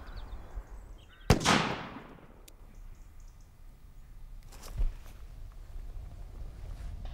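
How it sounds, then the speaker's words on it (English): A blank round fired from a gun at close range into a bottle: one sharp, loud report with a short decaying tail, then quiet room tone and a fainter thump a few seconds later. "Here we have the blank round, and we're now going to load the gun."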